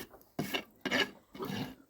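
The smooth side of a farrier's rasp is drawn across a horse's hoof in three distinct strokes, each a short dry scraping rasp. The strokes are close and quiet, with brief pauses between them.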